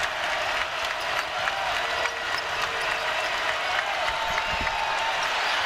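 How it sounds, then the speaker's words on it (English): A raucous arena crowd at a Tennessee Volunteers versus Indiana Hoosiers basketball game roars and applauds in a sustained, dense wall of cheering that never lets up. "Now this raucous crowd is feeling it."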